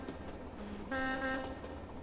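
A train horn in the Train Simulator 2020 video game, on a route toward Southampton Central, gives a low tone followed by a brighter, louder air horn blast of about half a second, heard alone over quiet background.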